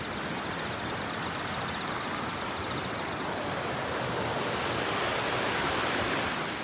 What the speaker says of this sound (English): it's nice the way this flood canal channels the water so efficiently